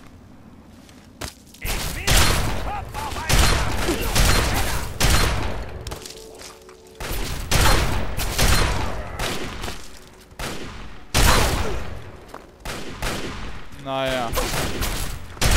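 Gunfire from a new weapon rattles through a firefight in the video game Fallout 3, with repeated loud bursts of shots and thuds separated by brief lulls, and someone speaks briefly amid the fighting.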